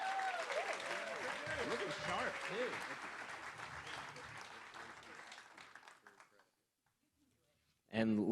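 At a realtors' leadership academy graduation ceremony, a crowd claps in a sustained, loud round that tapers off to near silence, with voices speaking over the applause early on and a sudden noise at the end.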